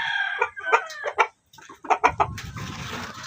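A hen clucks in a corner while laying eggs, giving a close series of sharp, rising clucks and squawks with a brief pause, followed by rustling and shuffling in the coop.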